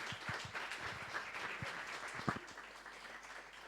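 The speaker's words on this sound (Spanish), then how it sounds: "primero a los chicos un aplauso gigante por el trabajo" A small group at an open meeting of a localization commission gives sparse, scattered applause. Individual claps are uneven and fairly quiet, rising briefly then tapering off.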